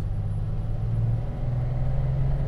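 A 1939 Lincoln Zephyr V-12 coupe downshifts into second gear while driving, a steady low engine drone shifting slightly in pitch, heard from inside the car with no voice over it.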